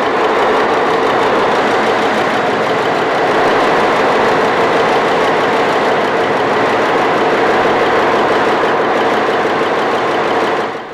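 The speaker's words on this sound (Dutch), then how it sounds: "Na de montage worden de motoren beproefd." F240 diesel engines test-running after assembly in a factory, a loud, steady, heavy mechanical drone with a knocking, idling character that continues unchanged before cutting off at the end.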